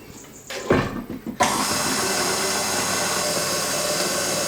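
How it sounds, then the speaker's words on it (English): Cream and milk for eggnog are whisked with a motorized whir that starts after a few clattering knocks and then runs as a steady, close drone. "Whisk those for a bit."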